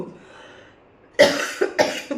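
A woman who is still recovering from a cough coughs indoors, starting with one sharp, loud cough and following with two more shorter ones in quick succession, after a stretch of quiet room tone.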